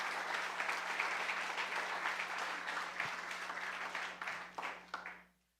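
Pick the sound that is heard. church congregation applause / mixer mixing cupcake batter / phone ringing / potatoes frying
church congregation applause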